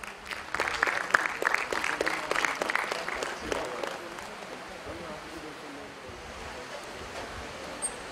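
An audience at a career counselling session for a skill enhancement programme applauds, a dense burst of clapping that swells, then thins and fades to quiet room tone.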